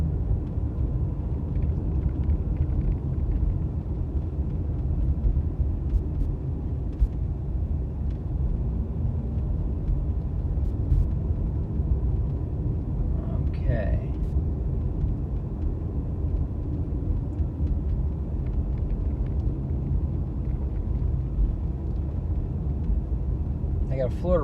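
A car cruises through the Disney Wilderness Preserve nature area, giving a steady low road and engine rumble throughout, with someone talking over it.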